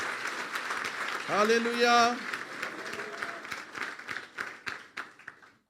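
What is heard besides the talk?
congregation applause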